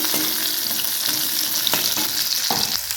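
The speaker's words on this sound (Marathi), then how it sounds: "आपण त्याच्यामध्ये आता हिरव्या मिरच्या टाकून घेऊया बारीक चिरलेले।" Finely chopped green chillies fry with crushed garlic in a hot pan, a loud, close, steady sizzle with several scraping stirs of a utensil and a sharper clatter near the end, without speech.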